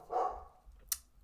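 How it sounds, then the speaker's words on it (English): Dog barking once, a single short muffled bark at moderate distance followed by a faint sharp click, with quiet background otherwise. "She's barking."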